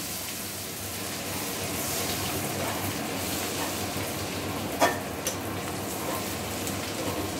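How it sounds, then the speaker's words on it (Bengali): Chopped garlic frying in hot oil, a dense, steady sizzle like rain on a surface, loud and close, with a couple of brief clinks partway through. "তেলের মধ্যে দিয়ে দেওয়া হলো কুচিয়ে রাখা রসুন"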